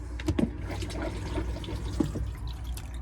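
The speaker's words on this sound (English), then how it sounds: "You do have the flush there, so if you press the flush," A cassette toilet in a Chausson motorhome flushes, with a short burst of trickling and dripping water inside the small bathroom, fairly close and moderately quiet.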